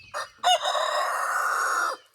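A rooster crows loudly and close by, one long drawn-out call preceded by a short cluck or two, with no talking.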